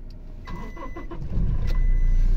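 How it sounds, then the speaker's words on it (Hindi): A Toyota Hilux engine cranks with a few rapid starter bursts, then catches and settles into a steady low idle close by, after dashboard removal and refitting work. "गाड़ी चालू भी हो चुकी है"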